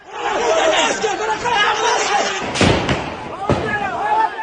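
Sharp gunshots crack through a crowd's frantic shouting in the town of Javanrud, Iran, a couple of loud reports standing out over the constant voices of indiscriminate heavy gunfire.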